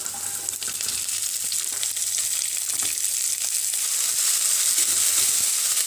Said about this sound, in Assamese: এতিয়া মই পিঁয়াজখিনি এই গৰম তেলত দি দিম অকণমান ভাজি লৈছোঁ